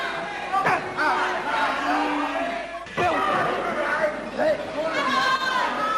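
A World of Sport wrestling crowd at Civic Hall Guildford murmurs and chatters during a semi-final bout, a steady wash of audience noise that swells at moments beneath a commentator talking throughout.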